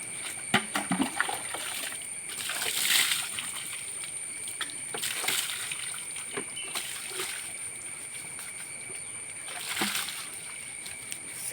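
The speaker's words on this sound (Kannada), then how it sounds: "ಹಾಗೆ ದನ ಸ್ನಾನ ಮಾಡಿಸ್ಲಿಕ್ಕೆ ಕರ್ಕೊಂಡು ಬಂದು ಅವ್ರು ಕಟ್ಟಿ ಸ್ನಾನ ಮಾಡಿಸ್ತಾ ಇದ್ದಾರೆ." Water splashes now and then as a cow is bathed outdoors on a rainy day, soft irregular splashes and trickles over steady rain-like hiss, with occasional faint voices.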